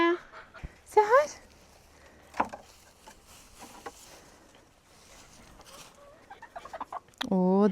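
Hens on a small farm cluck in scattered bursts, with a louder rising squawk near the end, while people talk nearby over a low outdoor background.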